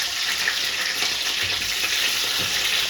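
Onions sizzle steadily in hot oil in a pan, a dense continuous hiss with faint stirring scrapes, close and alone.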